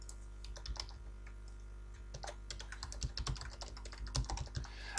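Computer keyboard typing as a site name, username and password are entered, bursts of quick, close key clicks with short pauses, quiet overall and no voices.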